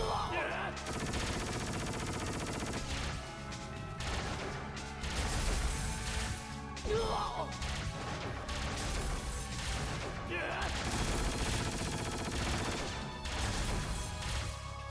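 Turret battle in the .Hack//G.U. video game, with dense rapid gunfire and mechanical clatter blending into loud continuous game music and effects throughout.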